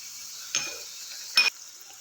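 Mutton kachnar gravy, made with bauhinia buds, fried and stirred in a pan: two short scraping stirs over a steady, faint sizzle.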